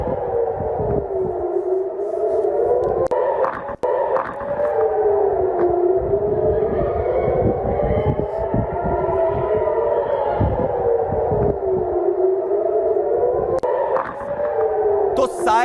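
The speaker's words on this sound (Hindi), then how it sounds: "तो सायरन बज रहे हैं लगातार" Air raid sirens wailing over Tel Aviv during a ballistic missile attack, several overlapping rising and falling tones droning continuously and loudly, with a brief sharp crack partway through.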